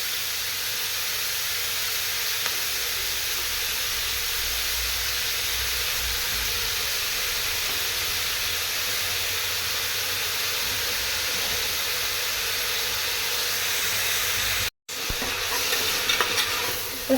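Onions sauté in a pan with salt, giving a steady, even sizzle with soft stirring sounds. The sound cuts out briefly near the end, then comes back with a few louder scrapes.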